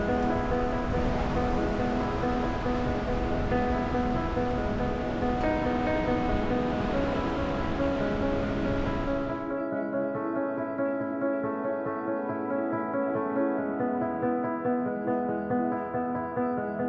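A waterfall on Yosemite's Mist Trail roars as a loud, steady rush of falling water for about the first half, then the roar cuts away, leaving a quieter, more tonal backdrop.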